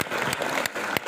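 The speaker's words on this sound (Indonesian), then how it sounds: "Tepuk tangan buat kalian." Dense audience applause at an Islamic boarding school (pesantren) event, a continuous wash of many hands clapping, loud and close, with a few sharper bursts.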